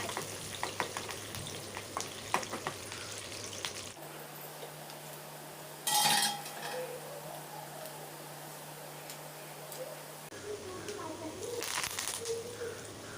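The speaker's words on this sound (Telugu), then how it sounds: "అందులోకి వచ్చేసి పోపు గింజలు, ఎండుమిర్చి, ఆనియన్స్, కరివేపాకు అయితే వేసుకొని ఫ్రై చేసుకొని" Mustard seeds, dried red chillies, onions and curry leaves sizzle as they fry in hot oil for tempering, a steady crackling hiss with a loud burst of spitting partway through and brief stirring noises.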